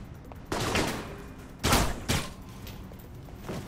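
Gunfire in the video game Alpha Protocol: three sharp, close shots in quick succession, the last two nearly back to back, over a low background hum.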